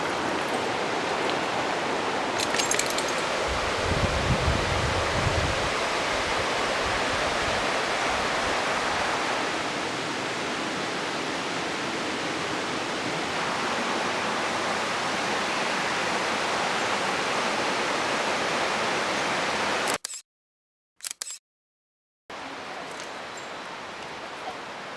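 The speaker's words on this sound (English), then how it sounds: "And then a river creek down there." A river creek flowing beside camping spots, a steady broad rushing wash of water heard up close and fairly loud, continuous for most of the stretch with a brief dropout near the end.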